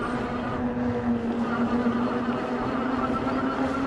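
A Sondors MXS electric motorbike climbs a hill on level 9 pedal assist in first gear, giving a steady, close motor whine with wind noise and no talking.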